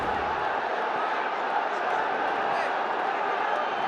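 A cricket stadium crowd at a Bangladesh Premier League match in Dhaka gives off a steady broad roar, with commentary voices blended underneath the noise.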